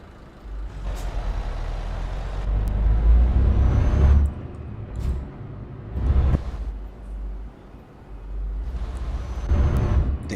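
A heavy truck engine in Euro Truck Simulator 2 rumbles loud and close, its deep drone surging and easing in several waves as the revs rise and fall, with a short hiss between.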